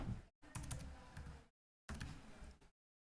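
Bursts of quick, crisp typing on a computer keyboard, close and clear, come in two separate runs with a silent pause between them and no speech.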